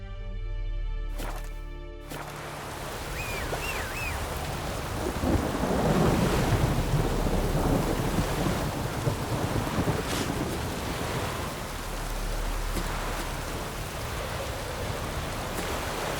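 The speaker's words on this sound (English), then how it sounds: "A storm, damn it." Thunderstorm in the video game The Witcher 3: Wild Hunt, a deep rolling thunder swelling and fading over a steady wash of rain and wind, following a brief tonal musical passage at the start.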